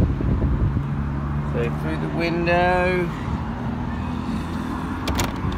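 Air-cooled engine of a 1967 right-hand-drive VW splitscreen van running with a steady low drone and a rising whine heard from inside, while people talk over it.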